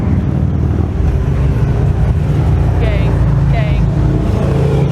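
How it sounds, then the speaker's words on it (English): About ten big hog motorcycles ride down Main Street on a Saturday morning, a loud, continuous engine rumble roaring close by. Voices talk over the noise. "here come a bunch of motorcycles. It's about to be so loud."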